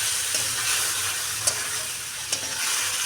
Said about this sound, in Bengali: এবার একটু হালকা করে জল দেবো। এটা কষিয়ে নেই